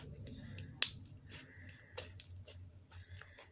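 Clicky slime being squished and stretched by hand, giving soft scattered pops and clicks with one sharper snap near the start, fairly quiet and close, with no talking.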